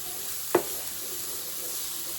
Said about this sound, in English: Add your onion to the skillet, and you're going to want to just saute it until it softens.